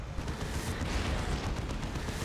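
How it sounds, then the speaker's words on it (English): Lascannon shots in the real-time strategy game Dawn of War 2: Retribution, heavy booming weapon fire over a dense, continuous battle roar that fills the short stretch without pause. "Las cannon, his biggest tool to use against the Phobos, getting shots in."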